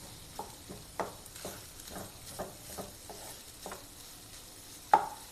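Egg being stirred and broken up as it cooks in a pan, heard as a soft sizzle beneath a series of regular spatula scrapes and taps, ending with one sharper knock.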